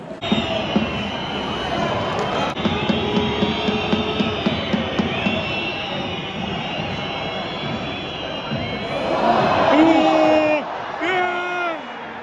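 A large crowd roars and cheers at a PSG football match in France, a loud sustained swell with a man screaming close by among the stadium noise.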